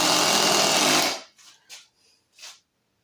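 A Milwaukee 18V Fuel Surge impact driver sinks a 3-inch deck screw with a loud, steady whirring drone for about a second, then stops abruptly, followed by a few faint, brief clicks and taps.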